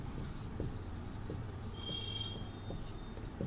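A teacher writes on the board during a Sanskrit class: faint tapping and scraping of chalk, a few soft strokes, with quiet room tone behind.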